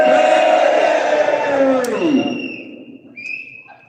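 Loud, close crowd of protesters at a UKIP unity march in Exeter letting out a big collective cheer that swells then tails off, followed by scattered fainter shouts and whistles.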